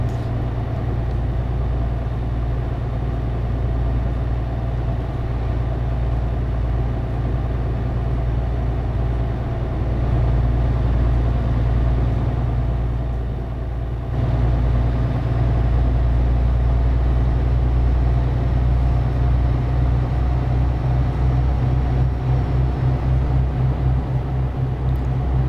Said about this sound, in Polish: Przy 80 dźwięk silnika staje się jakiś taki trochę nieprzyjemny.